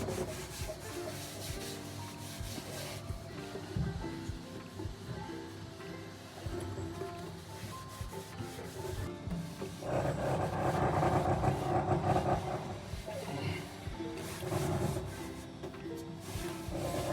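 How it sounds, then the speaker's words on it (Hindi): Construction work on a newly built house makes continuous rubbing and sanding noise with engine-like rumble in the background. It is fairly faint and swells louder in the middle stretch. "कंस्ट्रक्शन का शोर थोड़ा ज़्यादा होगा, उसको इग्नोर करना।"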